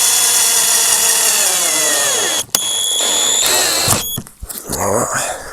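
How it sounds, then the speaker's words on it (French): A power drill bores into a roof plank during a roof renovation, its high whining motor steady and loud, then briefly stopping and starting again before fading into rougher grinding. "Il faut que je perce, tu vois, sur la partie droite."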